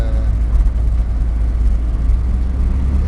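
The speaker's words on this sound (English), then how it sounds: "Much throatier sound now. Yeah, and this truck, we're running a big muffler on it too." A deep, throaty truck exhaust with a big muffler and 4-inch piping drones steadily at close range, a low rumbling idle with slight pulsing and no talking.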